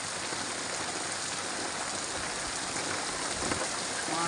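Heavy rain pours steadily onto a farm field, a dense, even hiss of water that holds at a constant loud level throughout with no voices.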